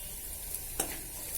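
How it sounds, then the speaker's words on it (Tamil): Lachakattai greens sautéing in a pan give a brief, steady hiss of close sizzling with a single soft scrape partway through. "இந்த அளவுக்கு கீரை வதங்கினா போதும்."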